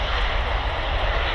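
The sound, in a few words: Loganair ATR 72 aircraft departing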